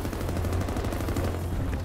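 Sustained automatic gunfire in the video game Battlefield 2042, a continuous rattling stream of rapid shots, loud and close throughout.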